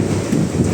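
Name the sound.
heavy rain and strong wind storm at market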